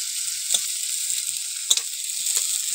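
Chopped onion and garlic frying in a pan for a red cabbage dish, a steady high hissing sizzle throughout, punctuated by a few sharp clicks and scrapes of a utensil stirring, close and clear with no talking.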